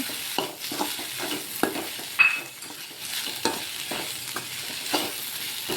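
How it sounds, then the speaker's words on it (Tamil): Fried okra being stirred into sautéed onion and tomato in a pan, with repeated scraping strokes of a spoon over a low sizzle, close and steady, one sharper clink partway through. "நம்ம வறுத்து வச்ச வெண்டைக்காய் அதில் போட்டு நல்லா கிளறி விட்டுட்டு"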